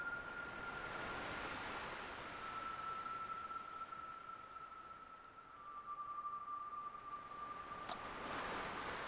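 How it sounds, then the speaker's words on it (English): Ocean waves in the video game Without a Dawn, heard as a steady, soft broadband wash of surf that swells and dips slightly, with a thin faint tone running underneath and no voices. "The sound of the waves has a unique quality to it."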